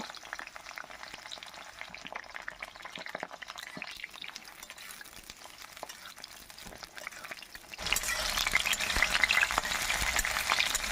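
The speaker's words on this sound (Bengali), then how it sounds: "তেলটা গরম হওয়ার পরে প্রথমে আমি বেগুনগুলো ভেজে তুলে নেব" Brinjal pieces frying in hot white oil for a vegetarian potato, brinjal and drumstick curry, a soft crackle that swells into a louder, dense sizzle partway through, with no voices.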